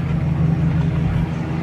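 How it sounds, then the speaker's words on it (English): A GMC truck engine idles steadily with a low, continuous rumble, heard close up and alone with no talk. "So the truck's on. I'm gonna leave it running for a little bit."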